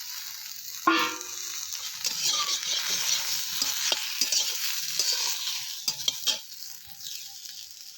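Brinjal (eggplant) pieces frying in hot oil for Bengali sukto, with a sharp clatter as they drop in, then steady sizzling and scraping stirs of a spatula against the pan, close and continuous.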